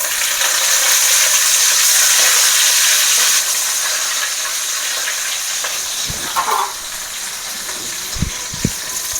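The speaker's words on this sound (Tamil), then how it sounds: "நல்லா பொன்னிறமாக எல்லாத்தையும் வதக்கிக்கணும். கூடவே இந்த கருவேப்பிலையும் போட்டுக்கலாம்." Ingredients sautéing golden with curry leaves in a pan for sambal rice produce a loud, steady sizzle that eases partway through, followed by a few soft utensil knocks near the end.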